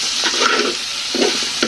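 Crab pieces fry with onions for a crab bhaji, a loud, close, continuous sizzle with a few scraping stirs of a spoon against the pan, and no voices.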